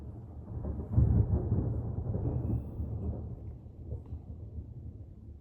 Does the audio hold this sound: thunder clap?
yes